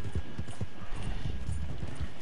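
Rapid horse hooves clip-clop in a steady galloping rhythm in a Western-themed video game, loud and close with no talking over them.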